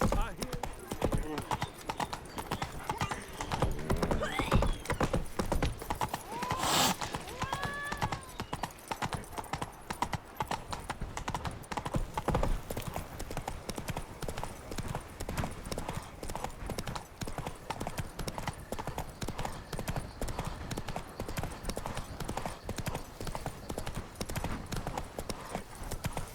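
Hooves of Roach, Geralt's horse in The Witcher 3: Wild Hunt, clip-clopping steadily nearer over a game soundscape, with a brief whinny early on and someone talking at times.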